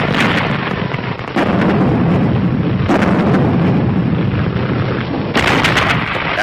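Artillery fire from 105 mm howitzer batteries at an airstrip, heard as sustained, dense rumbling booms and bursts that run without a break, loud and continuous, with sharper cracks breaking through at a few moments.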